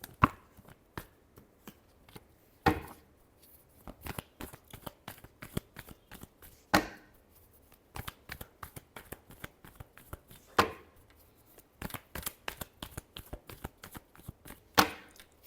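Tarot cards are shuffled by hand in a series of crisp riffling bursts and soft slaps, close and fairly quiet, with short pauses between bursts and no talking.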